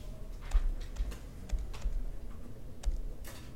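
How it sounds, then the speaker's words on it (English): Fingers tap values into a calculator in quick, irregular clicks, a dozen or so light keypresses close by in a quiet room. "I'm just going to type in these two values"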